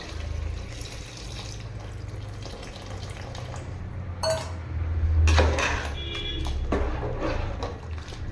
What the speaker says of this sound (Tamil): இப்போ வந்து நம்ம இந்த புளி தண்ணி ஊற்றிக்கலாம்